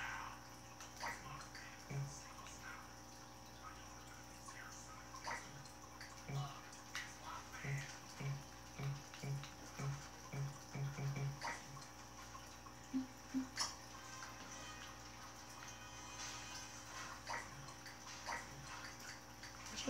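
Water runs steadily into a bathtub in The Sims 3, a soft continuous rush with small dripping blips scattered over it and faint talk nearby.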